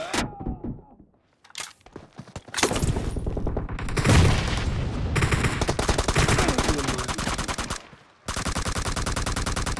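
M762 rifle gunfire in PUBG Mobile team deathmatch, with rapid automatic bursts, single shots and heavy thuds spread across several seconds, a brief lull and a final sustained stream of fire, mixed with game voice callouts.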